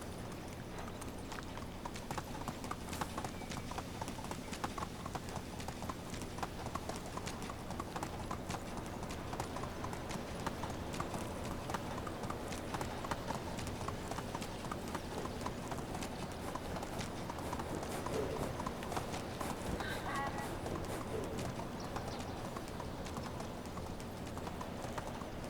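Horse hooves in a medieval video game, a continuous rapid clip-clop of galloping at steady rhythm, mid-level and unbroken, with no talking.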